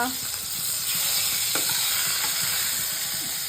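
Fish frying hard in hot oil, a steady close sizzle with crackling broadband hiss throughout, a few light utensil scrapes over it, no talking.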